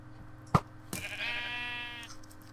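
A blue sheep bleats in Minecraft, a single drawn-out wavering call of about a second after a short click, clear and close.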